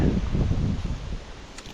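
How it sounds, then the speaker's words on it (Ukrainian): Gusty wind buffets the microphone in low rumbling bursts that ease off toward the end, with faint rustling. "Ого, який неприємний вітер здійнявся."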